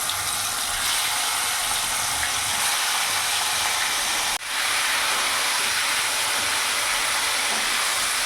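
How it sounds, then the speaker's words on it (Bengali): Chicken fries in hot oil, Bihari style, in oil just used for potatoes, giving a loud, dense, steady sizzling hiss with a brief dip midway before it surges back, close and continuous, with no voices. "এবার ওই তেলের মধ্যে আমি এখানে চিকেনটাও ভেজে নেব।"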